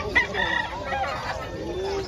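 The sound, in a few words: rooster crowing at a chicken market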